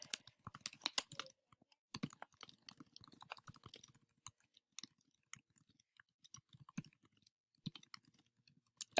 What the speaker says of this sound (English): you're going to type that exact title of the article